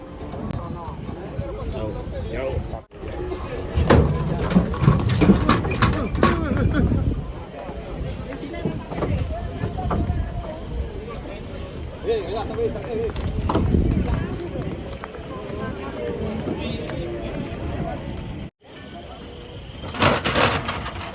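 Sacrificial cows stomping and clattering down from a truck, heavy hoof thuds and knocks on metal and wood carrying on through the clip under a crowd's chatter and shouting voices.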